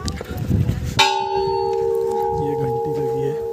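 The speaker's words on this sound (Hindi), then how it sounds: "ये घंटी लगी है।" A temple bell at Guru Shikhar on Mount Abu is struck once, giving a bright clang that rings on with a sustained, slowly decaying hum, heard after a moment of background chatter and outdoor noise.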